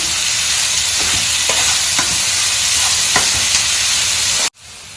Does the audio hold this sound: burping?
no